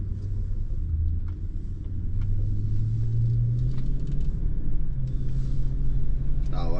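A BMW 735i E65 engine running under light throttle, a deep steady rumble that swells slightly in pitch partway through, with a murmur of voices underneath.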